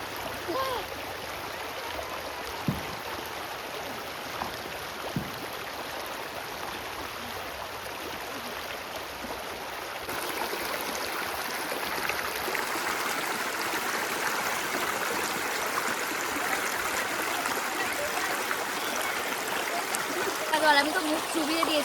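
A cold jungle stream flows and trickles over rocks in a steady, close wash of water, with the rush growing a little fuller partway through; faint voices sit under it.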